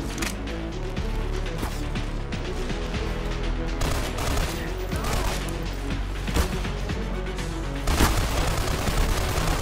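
Dense gunfire crackles continuously with repeated explosive booms and crashes in the video game Black Mesa: Blue Shift, loud and chaotic throughout.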